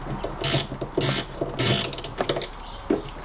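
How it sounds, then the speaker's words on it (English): A ratchet backs off the 10mm bolt on the battery negative cable of a classic Fiat 500, heard up close as several quick bursts of clicking with brief pauses between them. "take off the negative cable, and it's a 10mm bolt"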